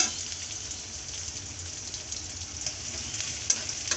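Onions hissing and crackling in hot oil in a pan while cooking chickpea curry, a dense, steady, close sizzle with a small pop near the end.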